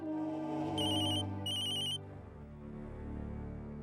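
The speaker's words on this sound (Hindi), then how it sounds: "तिवारी जी, 1 मिनट, हमारा फोन।" A telephone rings with two bright electronic ring bursts during a TV drama scene, loud and close over a sustained musical background that continues after the rings stop.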